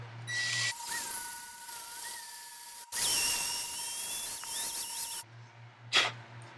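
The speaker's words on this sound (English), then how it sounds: "you're going to take your drill and you're going to drill that hole" A cordless-style electric drill whirs in two bursts while drilling a hole, each a high steady whine lasting a couple of seconds, close and fairly quiet with short pauses around them.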